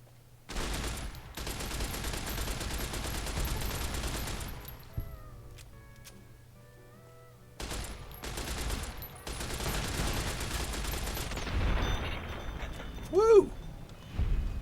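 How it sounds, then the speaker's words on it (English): Video game machine gun fire: rapid, close bursts in two long stretches separated by a few seconds of near silence, with a short voice-like whoop near the end. "Let's give him the machine gun."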